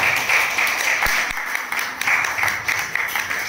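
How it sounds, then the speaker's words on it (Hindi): An audience at a Sahaja Yoga centre memorial gathering in Krishinagar, Nashik applauds, a steady wash of clapping at moderate loudness with a few sharper claps standing out. "तो एक जोरदार तालियां इन सबके लिए"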